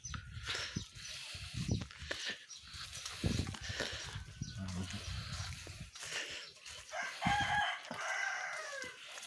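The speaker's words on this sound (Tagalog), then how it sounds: "Sama-sama, may manok, may pato." Chickens and ducks in a rural backyard in Ilocos Norte, with roosters crowing and hens clucking close by throughout, mixed with a person talking.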